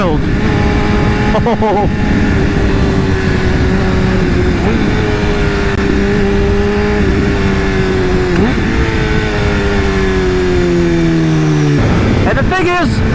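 A BMW S1000RR superbike fitted with a loud Akrapovic exhaust revs hard and close, its engine note sweeping up and down in long sustained pulls, with a brief exclamation from a person over it.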